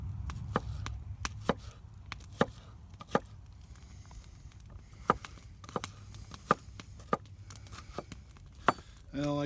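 Sharp knife chops onions on a cutting board outdoors for a Dutch oven elk steak stew, irregular crisp cuts spaced over several seconds, near and clear, with faint background rumble and a brief clatter at the end.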